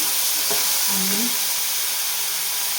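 Tomato cooks in hot oil with a loud, dense, continuous sizzle and hiss close up, with a brief low murmur of voice partway through.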